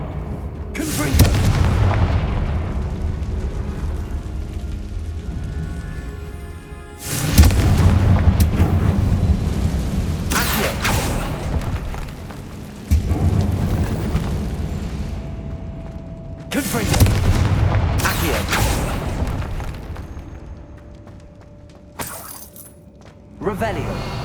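Fire-spell explosions in Hogwarts Legacy, four heavy booming blasts spaced a few seconds apart, each with a sharp crack and long rumbling tail, loud and close.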